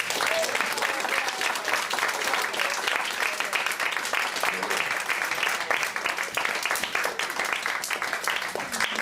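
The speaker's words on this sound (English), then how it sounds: "round of applause." Applause from a small gathered audience thanking storyteller Nell Murry after a Jataka tale, a steady patter of many hands clapping with some scattered murmuring, moderately quiet and continuous.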